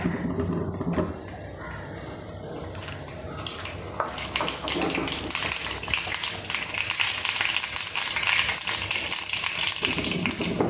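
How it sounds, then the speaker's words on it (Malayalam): Mustard seeds crackle and splutter in hot oil in a pan while a Kerala onion curry is being tempered, a steady busy sizzle with scattered sharp pops throughout, close and fairly loud. "കടുക് പൊട്ടിയിട്ടുണ്ട്"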